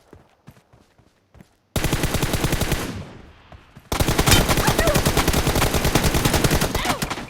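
Rapid automatic gunfire from a rifle in PUBG Mobile: a few sparse single shots, then a loud sustained burst, a short pause, and another long, steady stream of rounds right up close.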